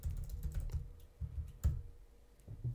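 Quick, light keystrokes on a computer keyboard, a short irregular burst of clicks heard close and alone.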